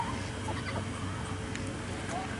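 A duck being hand-fed by a child and an adult at close range, giving brief soft clucking, fowl-like calls over a steady outdoor background, with no talk during the moment.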